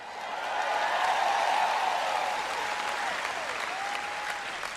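Audience applause fills a church hall during a sermon, a dense, steady wash of many hands clapping that swells and holds for several seconds without any speech over it.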